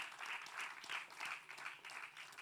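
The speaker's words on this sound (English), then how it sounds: "A round of applause for her." Audience applause at a conference panel, a steady wash of many hands clapping with slight swells and dips, moderately quiet and heard alone without talk.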